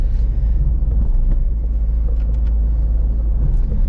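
Ford Fiesta 1.6 hatchback on the move, giving a steady, loud low engine drone and road rumble that runs unbroken from start to finish, with no voices.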